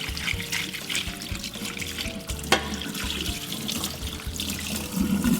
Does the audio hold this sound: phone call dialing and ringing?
no